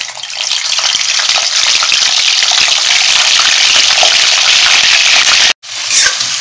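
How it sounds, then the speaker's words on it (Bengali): Unmarinated chicken pieces fry in hot white oil, giving a loud, steady, close sizzle that runs without a break and then cuts out abruptly for a moment near the end. "আমি মাংসগুলো ছেড়ে দিচ্ছি ভাজার জন্য।"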